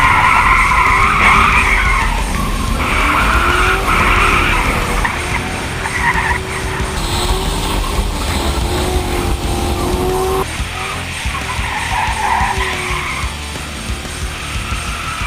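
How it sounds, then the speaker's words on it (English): A Chevrolet Caprice cop car spins out on a wet autocross course, its engine revving and tires squealing and skidding in long sustained bursts, loud and close throughout. "I want to watch David spin out the Caprice a few more times."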